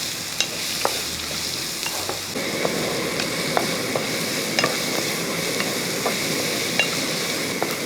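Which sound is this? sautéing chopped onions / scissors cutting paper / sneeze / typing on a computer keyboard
sautéing chopped onions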